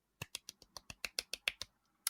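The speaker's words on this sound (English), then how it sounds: "You get your own separate small hand clap" A small round of hand clapping: about ten quick, sharp, evenly spaced claps at close range, then one last clap after a short pause, with no talking.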